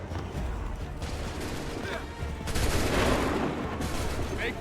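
A volley of musket gunfire in the video game Assassin's Creed 3 comes as loud, overlapping cracking shots. Scattered early reports are followed by a heavier, rumbling fusillade about halfway through, and then more bursts.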